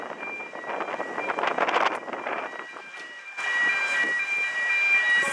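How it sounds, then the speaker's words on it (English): Strong gusty wind near Lisbon, Portugal, roaring steadily across the microphone at close range and swelling louder in the second half, with no clear speech over it. "I almost fell right now because of a gust of wind."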